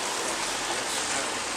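Cold rain pours in Arkansas, a dense, even broadband hiss that stays constant and fairly loud from start to finish with no talk.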